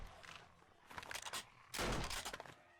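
Gunfire in the survival video game 7 Days To Die: a few scattered shots at moderate level, then a louder, denser burst of firing near the end, with no talk.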